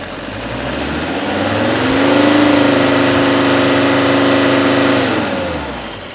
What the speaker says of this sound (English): I just have to show you how this engine starts now after this cleanse